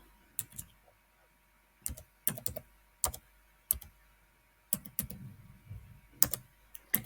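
Keys tapping on a computer keyboard in short bursts of quick clicks separated by pauses, close and fairly quiet with no voices.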